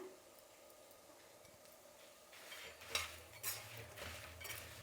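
Spoon stirring tempering spices and turmeric in a pot for Karnataka-style thili rasam, with soft scraping clinks growing louder and more frequent toward the end, close and without talk.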